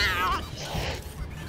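A cat meows in the Wasteland 3 video game, a brief wavering cry heard close and fairly loud over a dense, noisy game soundscape.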